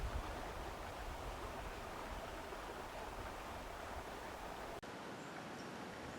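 Creek water flows steadily over weathered, eroded rocks in a forest, a constant close rushing wash with no talk, cutting off briefly near the end.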